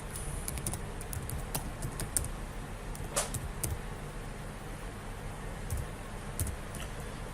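Password keystrokes tapped on a computer keyboard, a steady run of light, close clicks with a few sharper hits, set against a quiet room hum and no voices.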